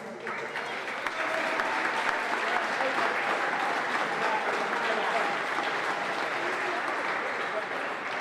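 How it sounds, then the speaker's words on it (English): A crowd applauds referee Gavin Buggy at a softball doubles handball finals, with sustained, even clapping throughout, loud and close. "a big round of applause for referee Gavin Buggy"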